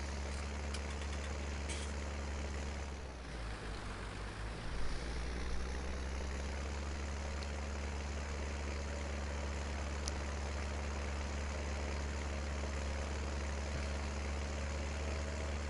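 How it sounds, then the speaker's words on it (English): An older tractor engine idles steadily in Farming Simulator 19, a continuous low rumble with a droning hum that holds evenly throughout, with a brief dip and shift in tone early on. "I love the sound of these older tractors."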